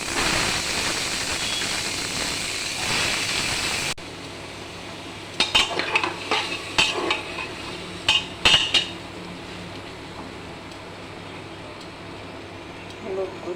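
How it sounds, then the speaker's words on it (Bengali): Chopped vegetables tipped into hot oil seasoned with a pinch of five-spice, then stirred with a metal spoon: a brief loud sizzle, followed by scattered scraping clinks against the pan over a quieter background. "কেটে রাখা সবজিগুলো দিয়ে দিচ্ছি এখন"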